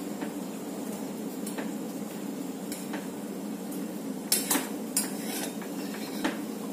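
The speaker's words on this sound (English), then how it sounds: "stir the kadha for about 1 minute or 30 seconds" A spoon stirs an Ayurvedic kadha herbal drink in a pot over low flame, giving soft scraping and a few sharp metallic clinks against the pot rim, fairly close and alone without talk.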